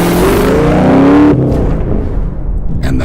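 A Dodge Viper engine roars close and loud, its rising growl climbing for about a second before cutting off into a lower rumbling idle.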